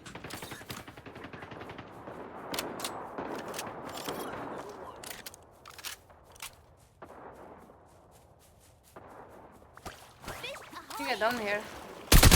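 Rapid gunfire rattles in the Fate Trigger shooter game, bursts of close automatic shots cracking in clusters with pauses between, while a player talks over the shooting.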